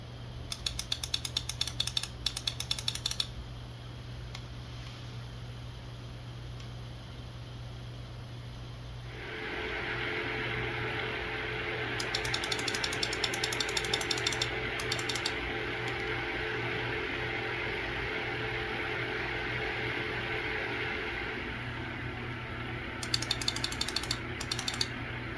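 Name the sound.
RTX 4070 ITX graphics card fan spinning at idle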